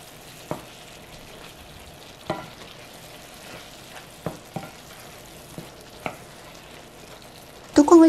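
Sliced button mushrooms fry in a hot pan with a low steady sizzle, broken by sparse clicks and taps of a utensil, then a louder clatter at the very end.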